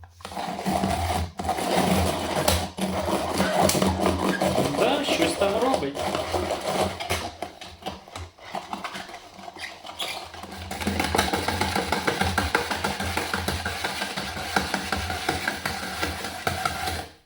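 A cheap electric vegetable slicer bought from AliExpress shreds young cabbage with a loud, continuous motorized whirring and rattling grind that dips briefly midway and then resumes, with a voice talking over it.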